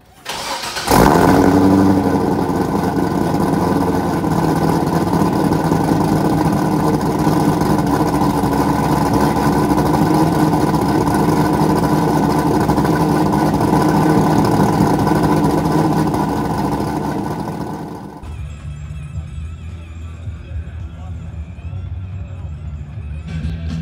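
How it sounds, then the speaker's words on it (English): A classic car engine cranks and catches on a cold start, then settles into a steady, loud idle that drops to a quieter rumble near the end. "So it's time for a cold startup."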